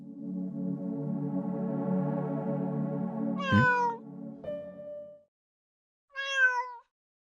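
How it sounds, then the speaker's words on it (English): Cat meowing close by: one long drawn-out, harmonic-rich meow, then a short chirp and a higher, sharper meow after a brief silence. "I heard a cat meowing."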